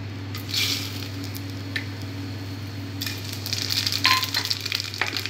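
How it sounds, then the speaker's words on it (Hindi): Soft sizzling of whole spices in hot oil for egg biryani over a steady low hum, with occasional crackles and a brief stirring scrape near the end. "तेल हमारा गरम हो चुका है, अब हम इसमें खड़े मसाले डालेंगे।"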